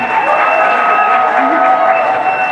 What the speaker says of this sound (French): On applaudit, François on Bokona.